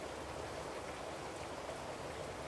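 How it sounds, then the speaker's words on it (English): Rain falls steadily in a dense, even hiss with a soft low patter underneath, with no voices or distinct events. "shouted over the rain"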